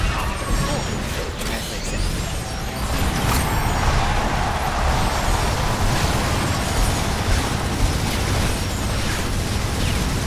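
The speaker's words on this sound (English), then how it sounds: "Iceman deliver a devastating Annihilator attack" An Annihilator attack unleashes explosions in Super Monday Night Combat, a dense, continuous roar of blasts and crashing debris that stays loud and chaotic throughout, with voices faintly mixed in.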